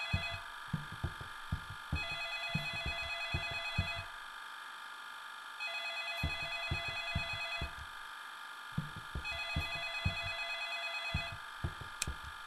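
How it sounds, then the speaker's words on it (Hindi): Inside a dark horror video game, a telephone rings in repeated bursts of electronic trilling, about two seconds each with short gaps, over a low pulsing heartbeat-like throb; faint and alone, no voices. "फोन बजता रहे"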